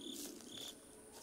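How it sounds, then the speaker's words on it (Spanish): Crickets chirp softly in shrill, pulsing bursts against a quiet background in the video game Slenderman. "Los sonidos de los grillos y también el bicho que anda acá me está poniendo nervioso."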